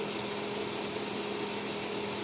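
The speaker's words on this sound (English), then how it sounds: "Take a little bit of water, a little bit of hot water, just a little bit through the spaghetti." Hot water pours steadily over spaghetti in a casserole dish, a soft, even gush that runs on without a break.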